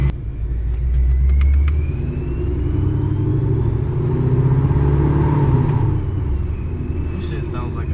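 A deep 700 hp Ford Mustang GT V8 engine rumbles loudly nearby, with low throbbing growl rising and falling as it revs, and voices talking faintly underneath.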